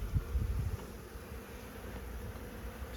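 New Zealand honeybees buzzing inside a beehive, a low, steady drone with a few louder swells near the start, heard alone at a soft level.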